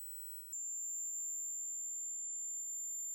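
A large Joule thief coil rings with a thin, steady high-pitched whine that jumps to a new pitch early on, then holds as a clean continuous tone while the pitch shifts, with no other sound behind it.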